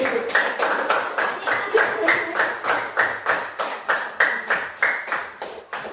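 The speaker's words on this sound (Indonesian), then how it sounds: "tepuk tangan" Steady rhythmic clapping from a group in a classroom, about fourteen even claps, fairly loud and close, with faint murmuring underneath.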